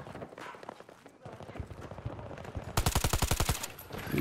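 Rapid automatic gunfire in the shooter game Battlefield 2042, sharp evenly spaced bursts that grow denser and louder toward the end, close and punchy.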